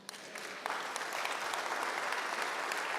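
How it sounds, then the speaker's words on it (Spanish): A church congregation breaks into steady applause, a dense, even clatter of many hands that swells after a brief start and holds through to the end. "¿Le da un aplauso al Señor?"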